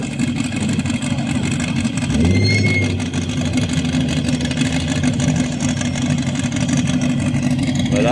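A Talbot Horizon GT Turbo arrives with its engine running close by, a steady mid-pitched drone that swells with a short rev partway through and then settles back to an even idle-like hum.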